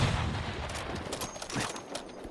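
Rapid gunfire bursts from Battlefield 2042 play loudly and continuously, with dense crackling shots layered over one another and no clear isolated sniper report standing out.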